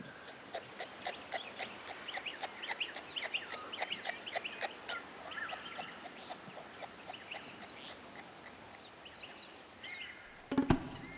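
A male kangaroo courting a female makes a faint, quick run of soft clucking clicks in irregular bursts, ending with a brief louder knock.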